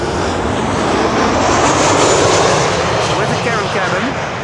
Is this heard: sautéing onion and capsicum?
no